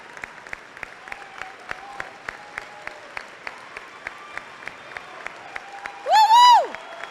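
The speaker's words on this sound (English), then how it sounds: "Let's give them one more round of applause." An audience at a community salute-to-service event claps with sparse, distinct, rhythmic claps near the microphone over a faint crowd background, then a loud rising whoop-like cheer cuts in near the end.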